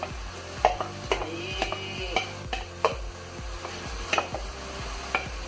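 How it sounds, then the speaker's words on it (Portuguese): Salt cod spooned into a frying pan, with soft sizzling under repeated clinks and scrapes of a spoon against the pan, close and steady. "Agora a gente vai jogar o bacalhau."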